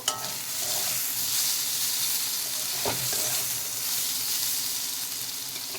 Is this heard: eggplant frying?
yes